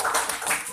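Applause in a classroom during a genetics lesson, with students clapping steadily and fairly close for a short burst of under a second.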